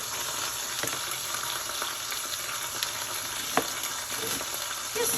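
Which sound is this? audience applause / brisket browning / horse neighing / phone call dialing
brisket browning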